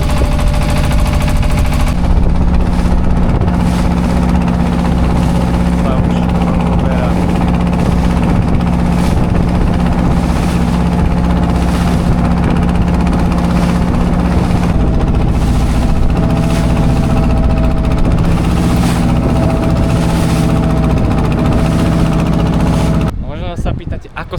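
A boat engine in Bangladesh chugs loudly and continuously with a rapid, rattling rhythm, close and steady throughout before cutting off abruptly at the end.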